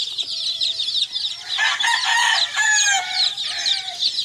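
Many chickens clucking and squawking together on a poultry farm in Carcar City, Cebu, dense and close, with a rooster crowing partway through; no talking.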